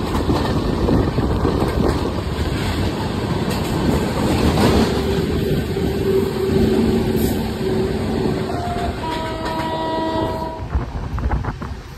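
A goods train rumbles past close by, a steady loud roar of rolling wagons and clattering wheels, with a brief horn sounding near the end.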